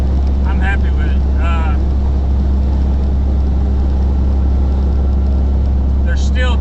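A semi truck engine idles steadily after a pilot bearing repair, its low, even drone loud and close with a slight whine on top; brief voices break in near the start and end.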